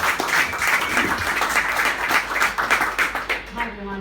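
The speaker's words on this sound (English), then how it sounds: "a round of applause" Applause from the crowd at a pitch night drinks event, a steady wash of clapping at moderate loudness that carries through most of the stretch, then tails off as a voice starts speaking.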